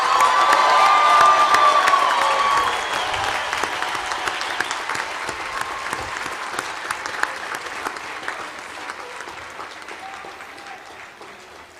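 A commencement audience applauds Bachelor of Arts graduates at a university ceremony, loud sustained clapping with cheers and whoops at the start, then steady clapping that gradually fades.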